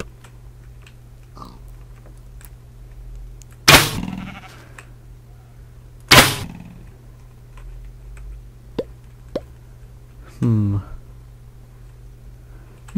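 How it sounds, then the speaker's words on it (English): Sheep in the Minecraft video game bleat in short separate calls, two loud close bursts then a fainter one, over a steady low hum with scattered clicks. "No, it's sheep."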